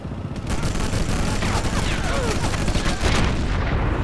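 Gunfire in Sniper Elite at a castle, with a dense, loud, continuous rumble of shots and booms. Someone speaks Turkish over the noise.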